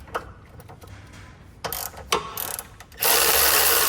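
A hand ratchet loosens a 10 mm bolt on a Chevy or GMC 2500HD truck's air intake box, giving a few sharp clicking bursts up close, followed by a louder, denser run of ratcheting.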